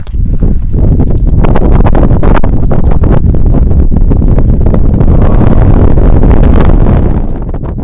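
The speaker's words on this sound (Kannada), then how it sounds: "ಈ ಗಾಳಿ ತುಂಬ ಜೋರಾಗಿ ಬೀಸುತ್ತೆ." Strong wind roars steadily across the microphone on Kappatagudda hill in Gadag, loud and buffeting throughout with no voices.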